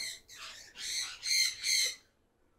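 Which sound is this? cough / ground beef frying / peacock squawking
peacock squawking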